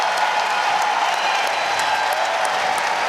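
A crowd at a women's college basketball game in Raleigh, NC State Wolfpack at home against Boston College, cheers and applauds in a dense, steady roar that fills the arena for the whole stretch.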